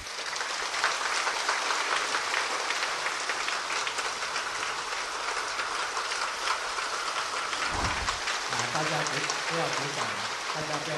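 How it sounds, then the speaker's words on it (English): A large audience claps steadily at a temple teaching session, a dense and continuous wash of applause that runs for about eight seconds before a voice begins speaking over its tail. "Please don't clap."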